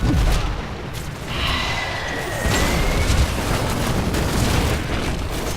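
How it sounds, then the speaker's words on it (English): Explosions in the video game Heroes of the Storm boom out one after another, with heavy low-end blasts and bright crackling bursts layered under continuous game noise, loud and close throughout. "look at what happens with the explosions"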